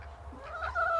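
A chicken gives a single short, rising call, fairly close and clear over a quiet low background, with no talking.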